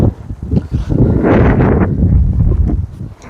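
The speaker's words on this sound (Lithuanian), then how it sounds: "Pasikeitė vėjas ir vanduo atkėla." Wind buffets a microphone beside a river while fishing, a loud rumbling gust that swells and fades for several seconds, alone with no talk.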